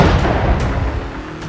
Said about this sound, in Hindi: दक्षिणी लेबनान में पहला धमाका